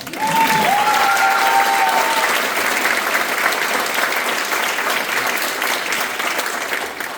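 Many hands clap at a graduation ceremony in a long, dense, even burst of applause that holds steady and tapers only slightly, with a brief whoop or whistle early on.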